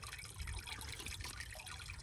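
Water dripping and trickling out of a hole inside the Blue Ridge Tunnel on the Appalachian Trail in Shenandoah National Park, a faint, close liquid patter over low rumbling tunnel ambience.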